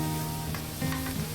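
Ginger, chili and garlic stir-fried in oil in a wok, a short burst of soft sizzling with a couple of quick scraping stirs close by.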